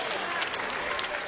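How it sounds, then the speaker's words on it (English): Arena crowd at a heavyweight boxing bout applauds after twelve rounds, a dense steady wash of clapping with a few vocal shouts mixed in. "having a round of applause for both of these warriors"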